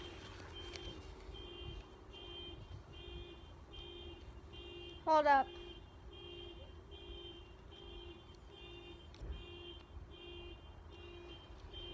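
A vehicle outside gives a persistent, steady electronic beeping that repeats throughout at moderate distance, with a voice briefly heard over it.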